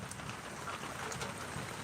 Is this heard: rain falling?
yes